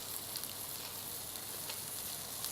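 Trout fillets sear in a hot pan with no added fat, giving a steady, soft, even sizzle that holds throughout without any voices.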